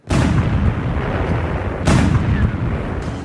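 A tank's main cannon fires twice, each a loud, sharp blast with a long rumbling roll-off, the second shot arriving about two seconds after the first, with no talking.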